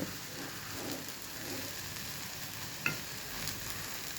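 Horse gram curry stirred after coriander leaves go in, a quiet steady sizzle with soft scraping under it and one small clink partway through.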